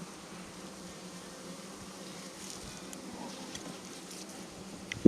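Honey bees buzz around an open brood super during a hive inspection, a steady droning hum from many insects close by, with faint handling knocks and a sharp tap at the end.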